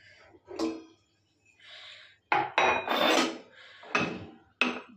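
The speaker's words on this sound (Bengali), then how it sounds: "এই তো কফির কাপ।" Coffee cups handled in a home kitchen, several separate ceramic clinks and knocks spaced irregularly, some sharp and bright, close by with short pauses between them.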